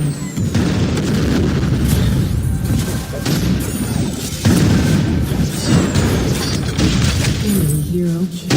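A turret in the Vainglory battle arena is destroyed amid a string of booming blasts and crashing impacts, loud and layered, with game sound effects and voices mixed in.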